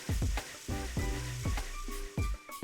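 Poblano peppers and portobello mushrooms sizzle on a grill as they are turned, a loud, close crackling hiss broken by several quick scraping and flipping sounds.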